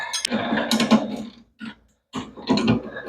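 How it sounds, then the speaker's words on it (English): Leaf spring bolts on a gas-converted 125cc golf cart are tightened with a wrench: short bursts of metallic clicking and ratcheting, close by, separated by brief pauses. "now we're going to tighten up these bolts here on the leaf springs"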